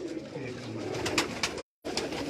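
Pigeons coo on a rooftop in Karachi, soft repeated murmuring calls close by, briefly cut off by a short silent gap before the cooing resumes.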